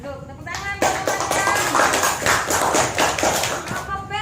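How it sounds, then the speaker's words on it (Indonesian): Children clap for their classmates in a group class, a dense patter of small hands with voices mixed in throughout. "Tepuk tangan buat teman yang ada."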